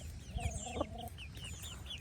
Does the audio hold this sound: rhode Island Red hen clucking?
yes